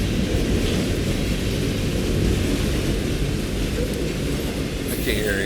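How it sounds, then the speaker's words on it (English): A loud train passes outside a plantation house, a dense continuous heavy rumble and roar that fills the whole stretch, close and overpowering. "I can't hear him saying anything because the train is so fucking loud."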